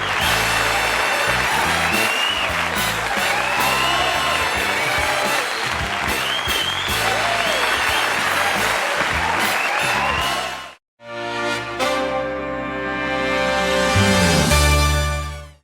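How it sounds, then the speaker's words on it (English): TV studio audience at a 1980s late-night talk show applauding and cheering loudly for a guest, a dense sustained roar of clapping and whoops with music playing over it, briefly dropping out before the noise resumes. "I'm humbled by that applause."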